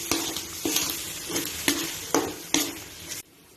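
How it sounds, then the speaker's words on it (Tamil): Egg and spices fry in ghee in a pan, a steady close sizzle punctuated by about six rhythmic stirring scrapes, then cutting off abruptly to near silence. "இப்போ நல்லா கிளறி விட்டுக்கலாம்."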